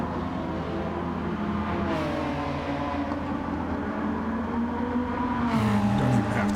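Honda Civic RCR race car in Gran Turismo 7 on the Dragon Trail circuit, its engine holding a steady loud drone with pitch shifting up and down through gear changes, near and continuous with no talk.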